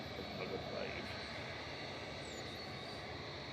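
A Turkish Airlines Airbus A321 taxis along a taxiway at Manchester Airport, its faint, steady engine hum continuous and distant under a broadband rumble.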